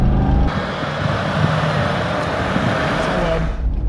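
A 1972 Mercedes 350 SL accelerates hard on kick-down, the engine note jumping to a loud sustained surge heard from inside the car, with no talking.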